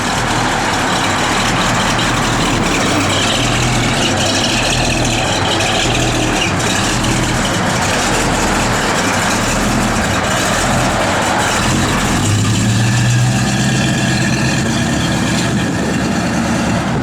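A 1972 Dodge Dart Swinger idles outdoors with a steady, low engine rumble, a constant loud drone beneath faint surrounding noise and a slight rise near the end.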